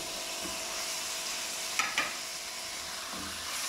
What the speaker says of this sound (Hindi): अब इसमें हम टमाटर डाल देंगे।